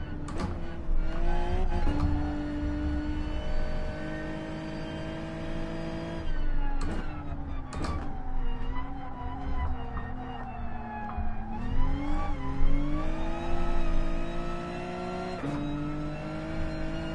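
Hyundai Genesis race cars roar through the Nordschleife in GT Sport, engines droning and shifting pitch as they rev, accelerate and battle side by side, with steady loud engine tone throughout and occasional sharp upshift drops.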